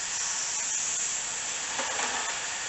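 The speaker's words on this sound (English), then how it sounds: "Now, get my air gun, and I'll just try and hit that with some air pressure." Compressed air from an air gun blasting onto a mold for a Buttercup nose bowl, a loud continuous hiss held for a few seconds, with no talk.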